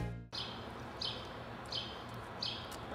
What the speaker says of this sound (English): My bird chirping. Do you hear it?